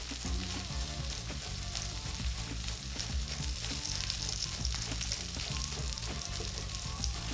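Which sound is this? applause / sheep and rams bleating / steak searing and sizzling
steak searing and sizzling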